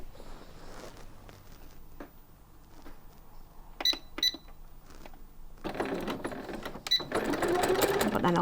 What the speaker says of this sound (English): I'll just stitch over that stitch line that I've already created